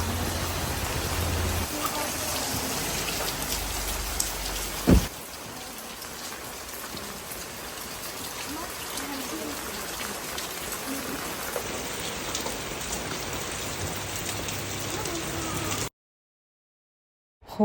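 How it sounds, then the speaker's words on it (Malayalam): Heavy rain pouring down steadily, a loud dense hiss that fills the scene with a sharp thump near the middle before cutting to silence at the end. "ഹോസ്പിറ്റലിൽ നിന്ന് വീടെത്തുന്ന വരെയും ഹെവി മഴയായിരുന്നു. നല്ല രീതിയിൽ മഴയുണ്ടായിരുന്നു."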